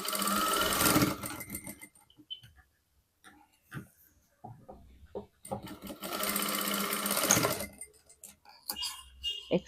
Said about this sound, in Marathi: आता इथे सुद्धा अशाच पद्धतीने सरळ टीप मारायची.